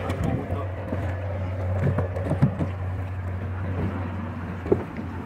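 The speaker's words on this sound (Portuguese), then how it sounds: "Aqui é o nosso barco." Small boat out on the water for checking a shrimp trap, a steady low motor hum under wind and water noise, with a few knocks and splashes nearby.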